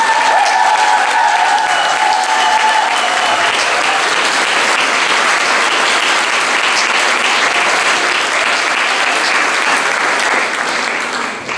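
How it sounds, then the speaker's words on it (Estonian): Applause from a festival audience for the performers, loud sustained clapping from a large crowd that holds steady for over ten seconds, with a few voices briefly audible at the start. "Veel kord väga suur aplaus kõikidele tegijatele, Lianne, Toomas, Maimu ja nii edasi"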